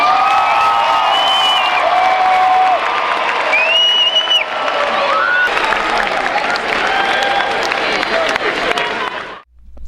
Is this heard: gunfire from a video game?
no